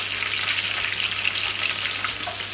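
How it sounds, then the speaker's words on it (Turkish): Steady, bright sizzling of cauliflower frying in a hot pan, continuous and fairly close, with no talking. "Karnabaharlarımız kızarıyor."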